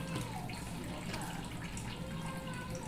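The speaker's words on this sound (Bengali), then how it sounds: "অল্প অল্প করে জল দেব।" Water pours in a steady trickling stream into a bowl of semolina chilla batter, close and continuous, with no talking.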